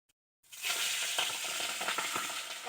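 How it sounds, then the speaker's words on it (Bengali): Fish sizzles loudly in hot oil on a wood-fired stove, a dense, steady crackle and spatter starting abruptly after a brief silence and continuing close up without pause. "এই যে মাছটা ভাজবো"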